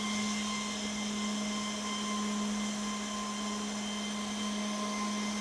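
An old computer server hums steadily after starting up, a constant whirring fan drone with a sustained tonal whine, heard close and unchanging throughout.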